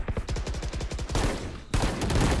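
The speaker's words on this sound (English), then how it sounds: "gets the headshot after a couple missed shots" Rapid automatic gunfire in VALORANT rings out in a fast rhythmic burst, then gives way to heavier, denser shots and a loud final crack, all up close with no talking.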